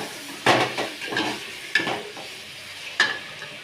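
Mint, coriander and curry leaves stirred in a hot pan for chicken biryani, with four distinct scraping strokes of a spoon over a light sizzle, close and clear without talk.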